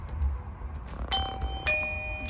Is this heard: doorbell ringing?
yes